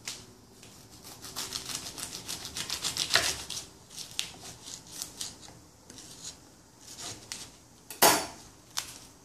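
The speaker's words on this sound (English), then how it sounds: "the next thing you're going to do is going to cut off the butt end with a knife" A knife cuts through the butt end of a microwaved corn cob on a board, giving a run of rapid crunchy fibrous crackles and then a sharp chop at the end. The sound is close and has no talking.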